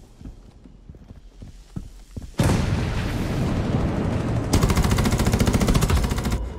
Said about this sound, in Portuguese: Já vou meter a explosão aqui já.